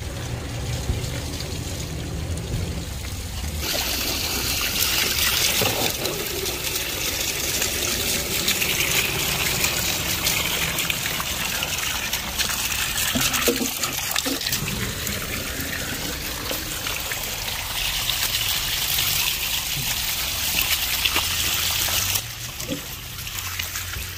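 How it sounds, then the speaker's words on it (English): Spring water runs and splashes into a container outdoors, starting with a quieter trickle, then a loud steady gush that shifts slightly in tone as the vessel fills, with brief interruptions near the end. "We're now getting water in the spring."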